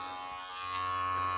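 Electric hair clippers buzz steadily up close while cutting hair for a skin fade, the motor hum rising slightly in loudness partway through.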